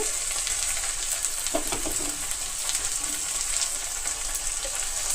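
Sliced okra frying in a pan for lunch, a steady close sizzle and crackle that holds evenly throughout with faint stirring clicks and no talking.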